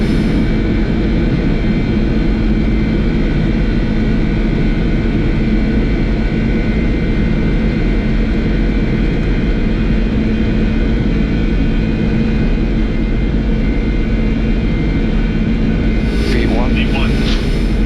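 Boeing 747-400 jet engines at takeoff thrust heard from the cockpit on departure from Mumbai, a loud, steady roar throughout with crew voices over it.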